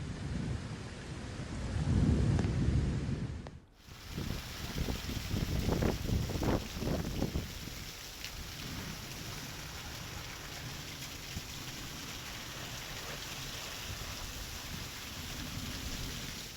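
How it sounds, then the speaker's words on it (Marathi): Thunder rumbles loudly through a steady downpour during a windy storm with lightning, with several deep rolling booms early on, then rain keeps falling heavily for a long stretch. "वादळी वाऱ्यासह विजेच्या कडकडाटात मुसळधार पाऊस झालेला आहे"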